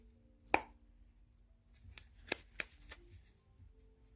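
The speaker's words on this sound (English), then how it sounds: "okay, cut the deck" A deck of tarot cards is cut, giving a sharp card slap followed by a few lighter taps and shuffles, faint and close, with no talk.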